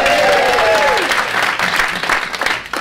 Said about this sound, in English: So give yourselves a round of